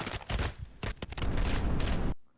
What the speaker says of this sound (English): but I found a minigun earlier in the level.